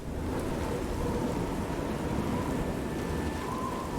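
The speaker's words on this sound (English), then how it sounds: "It sounds like it's raining, but I don't see any rain." Steady, dense rain in the Elder Scrolls IV: Oblivion video game, a continuous even hiss of falling drops with a faint low rumble, alone with no talk.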